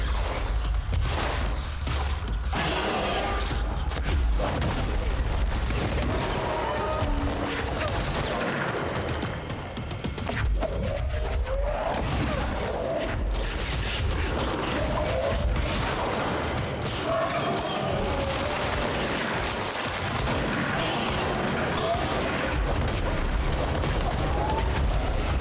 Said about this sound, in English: Oh my god, that's too many explosions.